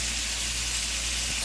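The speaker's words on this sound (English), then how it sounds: "now you see that's really starting to come to a high simmer" Tomatoes seasoned with salt simmer in a pan for shakshuka, giving a steady, soft bubbling hiss that stays even and unbroken throughout.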